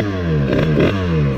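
A 50cc Masai motorcycle idles close by, its small engine putting out a loud, steady buzz with a couple of brief swells in the middle.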